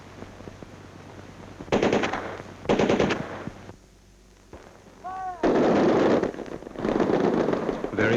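Recruits fire a Sten submachine gun in loud, close bursts of rapid automatic shots, several separate volleys with short pauses between them, and a faint whistle-like tone rises in one gap.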